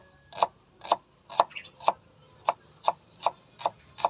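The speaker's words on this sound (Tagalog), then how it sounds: "samahan niyo na ako ditong maghiwa nitong sibuyas" An onion sliced with a knife outdoors, eight or nine crisp, evenly spaced chops on a cutting board at a steady rhythm, close and clear against a quiet background.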